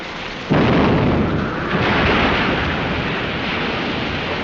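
A heavy gun blast from a 1936 film bursts out loudly after a brief lull, then a long rumbling roar and echo sustain to the end.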